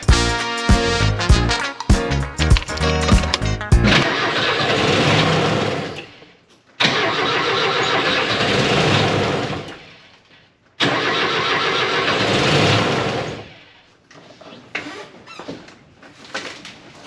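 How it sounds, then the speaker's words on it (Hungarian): A Lada Zhiguli engine turns over after its carburetor was taken apart and reassembled, the starter cranking in rapid stuttering pulses before it catches into a loud, rough roar that revs and drops away several times. "Az első indítás lesz azóta, hogy szét és összeszereltem a karburátort."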